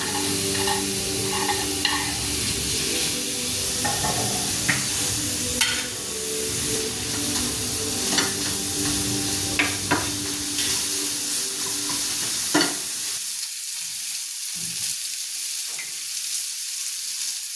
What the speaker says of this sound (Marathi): मी टाकते आता मसाल्यासाठी कांदा, टोमॅटो ग्रेव्हीला।